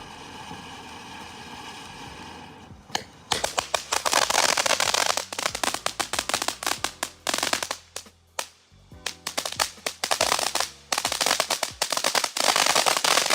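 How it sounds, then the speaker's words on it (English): A Magma consumer firework fountain, a California Safe and Sane product, erupts after a quiet start into loud dense crackling and popping bursts that continue in rapid clusters, with brief lulls, until the end. "Next is one of my favorite new fountains for this year, that being Magma."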